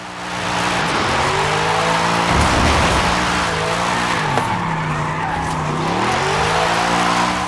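A 1955 Mercedes-Benz 300 SLR drifts in Forza Horizon 5, tires squealing loudly and continuously while the engine revs rise and fall through the slide.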